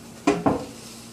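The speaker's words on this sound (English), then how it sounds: "I will stir this" A spoon knocks twice against a pot while stirring the no-bake chocolate oat bar mixture. The two quick, close clinks are followed by a faint scrape, with no voices over them.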